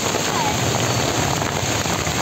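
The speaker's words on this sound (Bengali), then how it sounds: "বৃষ্টি এখন চলছে।" Rain falling on a waterlogged Kolkata street, a dense, steady, loud hiss of drops spattering on pooled water that holds unchanged throughout.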